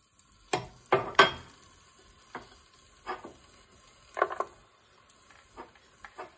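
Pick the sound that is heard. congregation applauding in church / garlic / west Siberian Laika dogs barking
garlic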